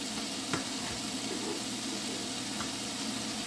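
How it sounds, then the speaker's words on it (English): An egg frying in a lightly oiled pan that tends to stick, giving a steady crackling sizzle throughout with a couple of faint clicks, close and even, with no talking. "I think I'm actually going to cook my egg at this point"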